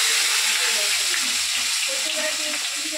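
Chopped onion sizzles and fries in hot oil with cumin seeds in a wok, a steady loud crackle throughout with faint scraping underneath.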